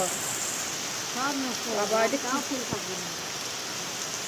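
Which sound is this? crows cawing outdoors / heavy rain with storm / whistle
heavy rain with storm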